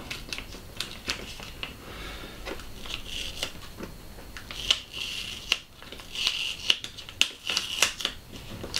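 Tape is pulled off a roll of 620 film by hand in the dark, giving a string of light crackling and sticky peeling sounds with small clicks, close and fairly quiet, and no talking.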